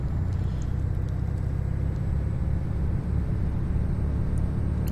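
A Volvo truck towing a trailer at night drones steadily after an upshift, a low, even engine rumble held constant while climbing a hill.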